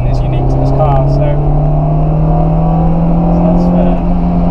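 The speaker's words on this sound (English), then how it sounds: "So this is an F20 engine, so it's the JDM one." A JDM Honda S2000 AP1's F20 four-cylinder engine holds a loud, steady drone with a slight rising pitch, running continuously throughout at close range.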